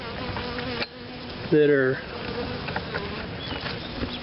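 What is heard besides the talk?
honey bees buzzing in a swarm hive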